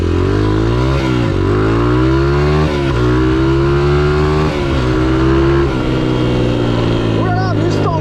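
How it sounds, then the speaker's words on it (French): Ford Mustang V8 engine with a loud, steady low rumble that rises and dips in pitch as it revs, held close throughout with no pause. "Oh là là, Mustang V8"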